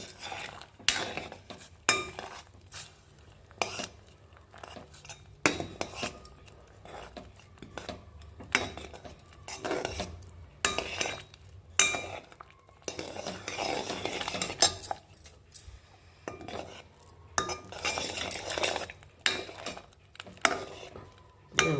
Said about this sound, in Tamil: இங்கே அப்படியே கொட்டிட்டு கிண்டிக்கிட்டே இருக்க வேண்டியதாங்க.